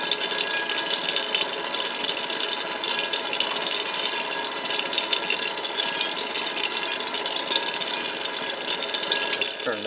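An Aieve snack coater tumbles chocolate-coated almonds, giving a dense, steady rushing rattle that stays loud and even throughout before a slight change at the very end.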